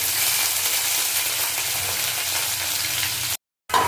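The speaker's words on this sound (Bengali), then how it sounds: "পেঁয়াজটা করে ভাজা ভাজা করে নেবো" Chopped onion frying in a pan for a Bengali prawn and banana-flower dish, a steady close hiss of sizzling oil with faint stirring scrapes, cut by a brief silence near the end before the sizzle resumes.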